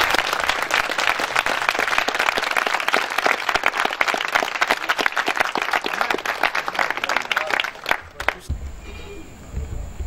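A church congregation bursts into sustained, dense applause acclaiming the Lord, many hands clapping loudly and close for about eight seconds before cutting off abruptly into quiet room tone.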